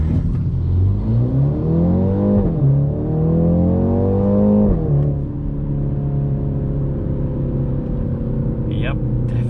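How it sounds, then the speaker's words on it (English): A 2022 BMW X2 M35 in Sport Plus mode launches hard from a brake boost, engine note rising through two upshifts before settling into a steadier drone, heard from inside the cabin with no one talking. "I'm gonna go ahead and brake boost this X2 M35"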